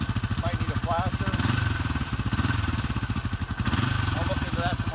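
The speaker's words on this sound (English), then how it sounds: "This bike actually runs pretty nice. There it is, idling." A 1971 Honda CB450 motorcycle engine idles close by with a steady, rapid chugging pulse, while someone talks over it throughout.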